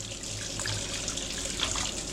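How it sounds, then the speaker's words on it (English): Warm water poured from a container onto beef bouillon in a kitchen, a steady close splashing pour lasting a couple of seconds with no voices. "So we're just going to add a little bit of warm water to them."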